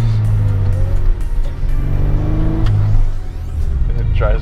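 A modified Toyota MR2 drives along with a steady, loud engine drone and rumble that swells briefly, heard from inside the car with no talk over it.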